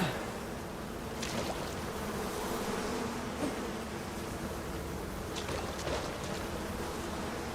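Swarming bees in the survival video game Icarus, a steady droning buzz hanging over a low rumbling backdrop throughout, with faint brief clicks and no talking.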